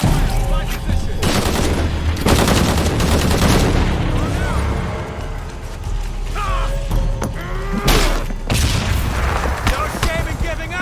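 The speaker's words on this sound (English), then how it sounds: "Gunner gonna fire!" Rapid gunfire rattles in the video game Shadow of the Tomb Raider, loud bursts and booms layered with mechanical clatter and game music, with voices calling out over the shooting.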